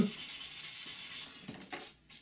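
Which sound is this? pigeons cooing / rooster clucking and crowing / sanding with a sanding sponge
sanding with a sanding sponge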